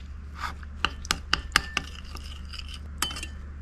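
Starch and water are stirred in a small bowl, producing a quick series of sharp clinking taps of utensil against the dish, close and alone.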